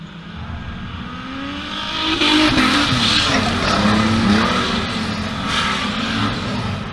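Stock cars race around a dirt track, engines roaring loudly at a distance and swelling as the pack passes, with tyre scrabble on the loose surface and continuous engine noise throughout.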